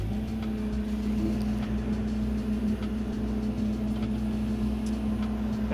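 A small wine grape harvester's engine runs loud and close as the machine drives off in low range gear, a steady droning hum with a sustained tone and little change in level.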